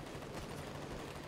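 Dense, steady gunfire rumbling through a brief moment of the World War II strategy game Call to Arms, with no speech.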